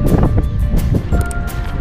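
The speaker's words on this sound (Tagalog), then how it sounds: "Medyo malakas yung hangin dito ngayon." Steady strong wind buffeting the microphone in Porvoo Old Town, Finland, a constant low roar with gusty swells, no voices.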